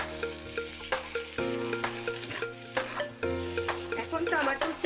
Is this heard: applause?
no